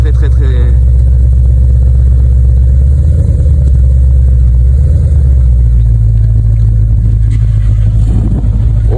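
At a car meet in a supermarket parking lot, a car engine idles with a deep, loud, close rumble that swells briefly as it revs, while people talk over it nearby.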